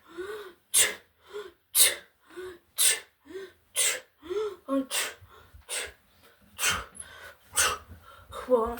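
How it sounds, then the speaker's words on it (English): Repeated sneezing after drinking a so-called sneezing potion, about a dozen sharp, close, loud sneezes in a fairly regular rhythm with short breaths and gasps between them. "Why am I keep sneezing everywhere?"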